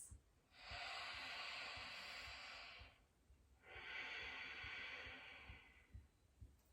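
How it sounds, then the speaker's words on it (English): Two long, slow breaths drawn through a constricted throat, each a soft, steady oceanic hiss lasting a couple of seconds, close and quiet, with a pause between. "which creates a little bit of a deep oceanic sound like this"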